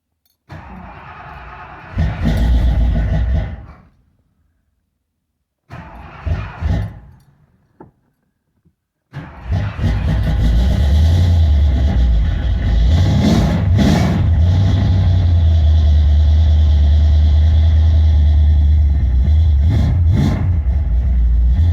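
A car fitted with Atomic EFI, left sitting about a week, cold-starts on E85 fuel: it cranks in bursts with pauses, then catches and settles into a loud, steady, rumbling idle.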